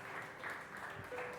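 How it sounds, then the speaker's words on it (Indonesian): A church congregation claps during a Sunday worship service, a steady, dense patter of many hands filling the room for a brief stretch with no break. "Berikan tepuk tangan untuk Tuhan"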